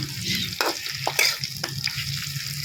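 Chopped beans, brinjal and potato fry in a pan for a greens churchuri, a steady close sizzle with intermittent stirring clatter and scrapes.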